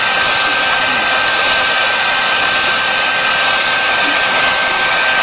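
A heat gun blows a loud, constant roaring hiss close by while shrinking thin heat-shrink tubing over wire, steady throughout with no talk.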